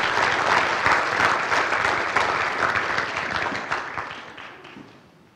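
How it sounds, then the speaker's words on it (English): Audience applause fills a signing day ceremony hall, steady dense clapping from a large crowd that holds strong for several seconds, then gradually thins and fades toward the end. "Ladies and gentlemen, please join me in applauding the next generation agribusiness professionals."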